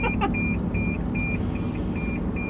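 A Toyota Matrix XRS shifted into reverse sounds a series of short, evenly spaced warning beeps over a low, steady engine rumble inside the cabin.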